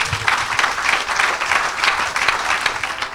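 A church congregation claps and cheers together in a dense, continuous wave of applause, loud and sustained throughout.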